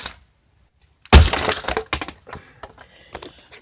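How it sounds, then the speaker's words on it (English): Toy train set tower crashing onto the ground, a sudden sharp smash of plastic pieces after near-silence, followed by scattered clattering and rattling bits settling over the next couple of seconds. "The tower crashed onto the ground."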